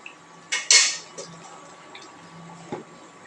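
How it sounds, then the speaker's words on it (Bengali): A lid set onto a cooking pot of hilsa fish curry with beans and potatoes, giving a close metallic clatter and a sharp clink, then a few fainter taps and a last soft knock against a quiet background. "ঢাকা দিয়ে ঢেকে দিল"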